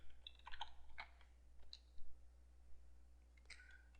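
Clicky keystrokes on a computer keyboard come in short irregular bursts with pauses between, close and fairly quiet over a low steady hum.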